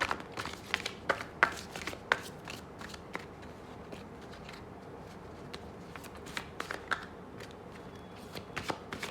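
Tarot cards shuffled by hand for a reading, a steady run of soft riffling flicks and sharp card snaps close up, with no voice over the handling.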